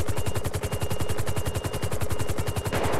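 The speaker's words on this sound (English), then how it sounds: "Shot fired." Rapid automatic gunfire from a police roleplay video game shootout, a fast steady burst of loud repeated shots running the whole time, close and dense, with no talking.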